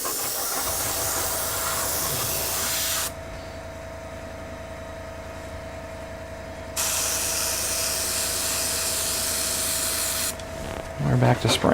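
Paint being sprayed onto a BT-7 tank scale model, a steady close hiss that cuts to a quieter background for a few seconds, then resumes loud, with a brief clatter at the end.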